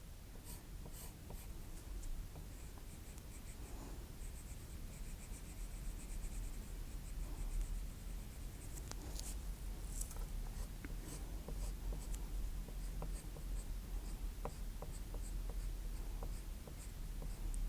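Pencil scratching rough lines on paper while tracing a wolf drawing, a steady close-up scraping and hatching that runs continuously throughout.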